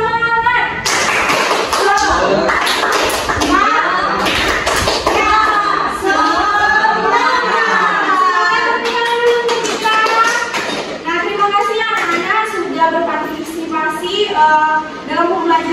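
Schoolchildren perform a rhythmic spirit clap in a classroom, bursts of patterned hand claps and taps mixed with loud chanting children's voices, close and energetic throughout.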